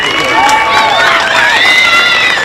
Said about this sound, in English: Give that young lady a big, big round of applause.